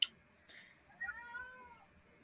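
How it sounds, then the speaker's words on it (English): Cat meowing once in a drawn-out, wavering call after a brief click, close but quiet against a low background hiss. "You bad kitty."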